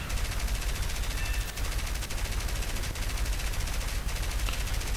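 Aircraft guns fire nonstop in the War Thunder combat game with Russian planes, a dense, loud, rapid machine-gun rattle filling all five seconds with no pause.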